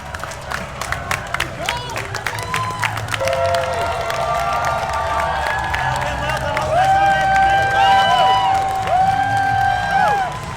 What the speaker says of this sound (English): all the staff were clapping and cheering as everyone walked into the venue